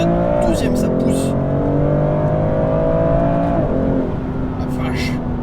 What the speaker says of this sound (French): On va essayer une accélération en première.